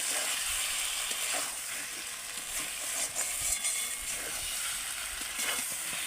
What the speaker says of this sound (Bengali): এবার আমি ভেজে রাখা আলু আর বেগুনটা মশলার মধ্যে দিয়ে দেবো দিয়ে আরেকটু নেড়ে নেড়ে কষিয়ে দেবো